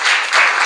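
A school audience applauds a children's stage play on constitutional rights, giving a short burst of dense, loud clapping from many hands at close range.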